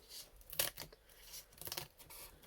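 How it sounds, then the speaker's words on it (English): Small scissors cut paper at a craft table in a few crisp snips and short rustling cuts, fairly close, with quiet pauses between them. "we're just managing with the little scissors"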